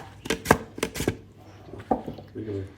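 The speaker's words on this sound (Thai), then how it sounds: "อันนี้ก็จะเป็นหั่นแตงกวานะคะ" Several crisp knife chops slicing cucumber on a cutting board, a quick cluster of cuts followed by a few more scattered ones, close and fairly loud.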